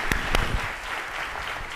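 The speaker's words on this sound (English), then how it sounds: "Let's give a round of applause." Brief audience applause closes a panel event on global democracy, a few sharp claps up front settling into a softer, steady patter.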